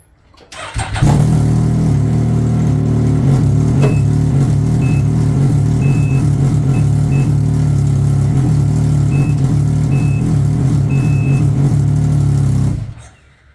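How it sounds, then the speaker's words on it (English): A Can-Am Ryker engine fitted with a Dynojet PV4 custom tune, revved by twisting the throttle: a loud, close engine drone that rises abruptly, holds steady with pulsing for about twelve seconds, then cuts off. "I'll go over here and twist the throttle."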